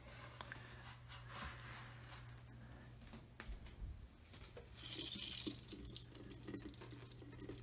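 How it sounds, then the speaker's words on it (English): Water drains and drips from grated cucumber into a sink, a continuous trickling wash that grows louder and splashier toward the end. "there's lots of water in this, so I'm going to drain it out just like Adam Ragusea did"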